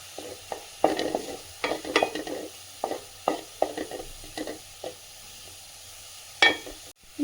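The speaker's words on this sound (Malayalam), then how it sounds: "ഞാൻ കാശ്മീരി മുളകിൻ്റെ പൊടിയാണ് ചേർത്ത് കൊടുക്കുന്നത്. ഇതും നല്ലതുപോലെ ഒന്ന് ഇളക്കി യോജിപ്പിക്കും." Shallots and Kashmiri chilli powder frying in hot oil for a masala cowpea stir-fry, stirred with a spoon in a series of close, irregular scraping strokes over a soft, steady sizzle, with no talking.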